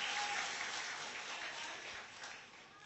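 An audience claps at an online music show, a steady wash of applause that holds fairly even and then eases off slightly, moderately loud with no voices on top.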